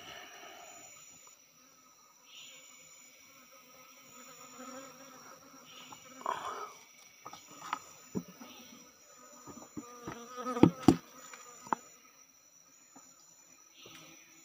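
Wild forest honey bees around roughly twenty nests on a huge tree make a faint, steady high buzzing drone, with individual insects passing close and a few sharp knocks and rustles nearby.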